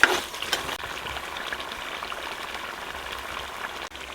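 Chicken gizzards fry in a pot in a Pakistani village kitchen as chicken liver is added: a steady, close, hissing sizzle that runs evenly throughout, with a few brief clatters near the start.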